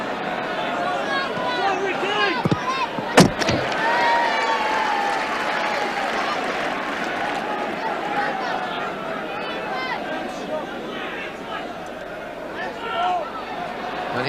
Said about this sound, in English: the big Argentine gets a generous round of applause